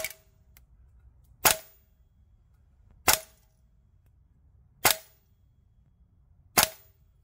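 Guns Modify 416 airsoft rifle with a T8 magazine fires 0.25 gram BBs in four sharp, evenly spaced single shots about 1.7 seconds apart, each a crisp snap over a quiet background.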